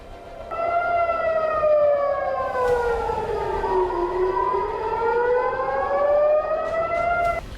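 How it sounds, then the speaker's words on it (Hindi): Air raid sirens wailing across Israel during a Houthi missile attack, several tones rising and falling in long overlapping sweeps, loud and steady throughout with no voices. "इजराइल में एयर अटैक के सायरन गूंजते रहे।"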